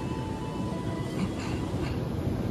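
Inside a moving KA Java Priority passenger carriage, a former 1980s luxury coach running from Jakarta to Jogja, a steady rumbling rail noise fills the space with a low, continuous clatter and no voices.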